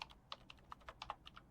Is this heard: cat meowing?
no